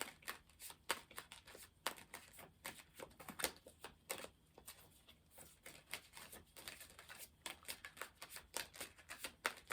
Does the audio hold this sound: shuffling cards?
yes